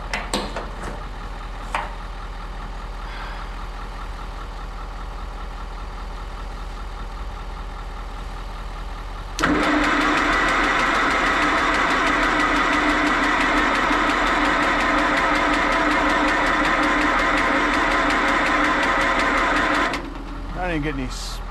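An engine cranks and catches after a quiet stretch, then settles into a loud, steady idle for about ten seconds before cutting off, with people talking nearby.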